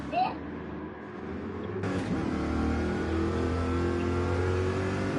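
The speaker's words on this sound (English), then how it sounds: "It sounds absolutely beautiful, this Corvette" A Corvette racing engine in Gran Turismo 7 revs up and holds a steady, droning mid-pitched roar after a brief quieter start, loud and continuous, with a commentator's voice over it.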